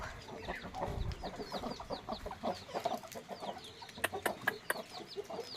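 Several hens cluck and chatter nearby in quick, irregular bursts, with faint chirps of other birds behind them.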